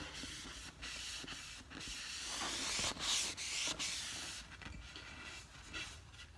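Hand-rubbing finish firmly into the wooden handle of a double bit axe, a continuous close scratchy friction with brief pauses and strokes, no talking.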